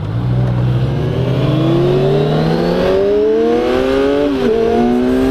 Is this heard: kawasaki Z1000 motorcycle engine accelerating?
yes